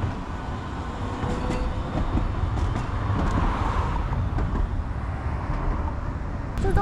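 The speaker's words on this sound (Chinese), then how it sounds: "在广岛市区随便走都会看到路面电车" A Hiroshima street tram rolls past on a city street, a steady loud rumble of wheels and traffic with faint rail clatter throughout, no voices heard.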